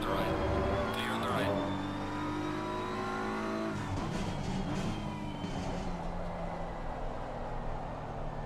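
Race car engine roaring by in Assetto Corsa Competizione, a loud, sustained high-revving drone that shifts pitch as a rival pulls alongside, with a voice speaking over it.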